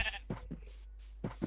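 Sheep in the Minecraft video game bleat several times in short, wavering calls, close and fairly clear, with pauses between them and no talking.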